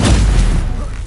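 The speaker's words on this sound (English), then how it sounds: "Stupefy!" A Stupefy stunning spell strikes in Hogwarts Legacy as a single heavy, close thud-like boom that fades over about a second.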